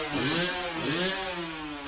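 A dirt bike engine revs loudly and steadily at close range, its pitch rising and falling in wavering sweeps as the throttle is worked, with no voices over it.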